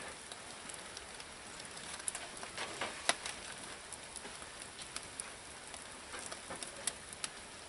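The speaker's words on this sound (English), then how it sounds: "Starting to rain." Light rain begins pattering in a backyard where ribs are being smoked on a barbecue, a soft steady hiss broken by scattered, sharper drops striking nearby surfaces, with faint birdsong in the distance.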